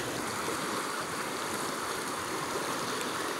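Swollen river water rushing steadily during a typhoon, a dense continuous roar with no breaks, loud and close, with no voices.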